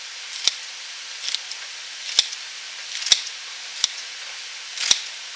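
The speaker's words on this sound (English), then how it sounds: "These are clean kitchen scissors." Sharp snips of kitchen scissors, about five crisp cuts spaced irregularly, close up over quiet background noise.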